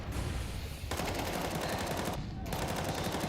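Rapid automatic gunfire from Counter-Strike in a grand final match, a dense unbroken rattle of shots that breaks off briefly twice and resumes, loud and close.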